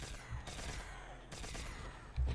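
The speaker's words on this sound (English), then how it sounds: "Trench gun." A trench shotgun fires in a zombies video game, a couple of loud booming blasts with sustained rumbling battle noise in between, sounding close and heavy.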